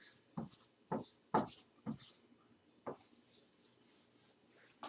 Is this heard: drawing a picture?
yes